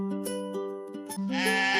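Goats bleating on a village house rooftop: a few close, wavering bleats in quick succession, loud and clear with no talk.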